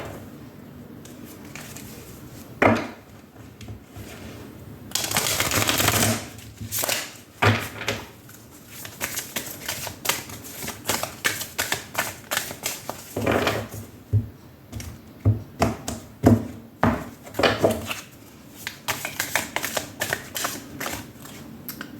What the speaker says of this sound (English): I'm going to pull out all the cards before we begin.